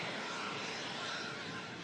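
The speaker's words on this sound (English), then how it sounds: "Once this EasyJet touches down, should be enough clearance for the Cathay 350 to cross." An EasyJet airliner coming in to land at Manchester Airport during Storm Lilian, a steady broadband engine roar heard at a distance, continuous and even throughout.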